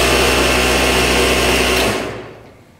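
A Juki 8700 industrial lockstitch sewing machine runs at full speed, a loud, close, steady high-pitched whir that winds down and fades out in its final second.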